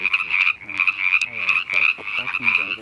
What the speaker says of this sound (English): This is filled with frogs.